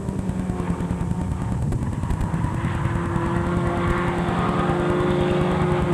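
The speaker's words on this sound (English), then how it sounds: "Lots of tires squealing." Race cars at a 2006 race day circuit squeal their tires amid a steady roar of passing engines, with a sustained high screech layered over the rumbling track noise.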